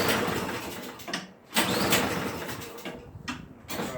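A Toro Powerclear 721 RC snow thrower engine being started after priming and choking, with bursts of cranking and catching separated by brief pauses, close and loud, with no speech.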